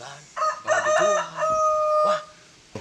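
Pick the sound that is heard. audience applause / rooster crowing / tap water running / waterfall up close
rooster crowing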